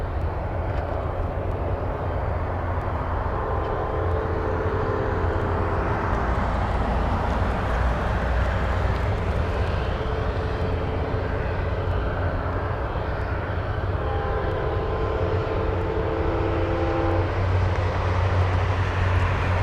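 An Alaska Airlines Boeing 737 jet heard from a plane-spotting spot at Anchorage airport, a steady broadband engine roar at moderate distance with tonal whine rising and falling, no talking.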